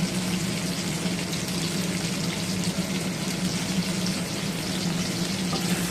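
Chopped onion added to potatoes already frying in a pan, producing a dense, even sizzle that holds steady and close throughout with no voices.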